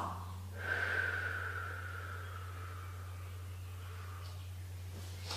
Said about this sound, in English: In through your nose and out through your mouth.